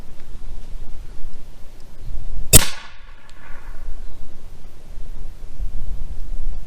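One sharp, loud pop as a Nerf blaster fires a dart at full power, a single crack with a brief ringing tail over faint outdoor background noise.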